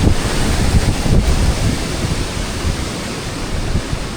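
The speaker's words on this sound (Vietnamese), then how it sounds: "Gió cực kỳ là to." Strong wind roars high up in a 100-metre-tall tree, buffeting the microphone with a loud, continuous rumbling rush that surges slightly in the first seconds before holding steady.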